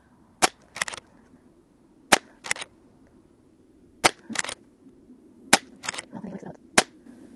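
Umarex Zelos .22 airgun fired in a backyard, six sharp cracks spaced about a second or more apart, each followed closely by a softer secondary click or pellet impact, close and loud against a quiet background.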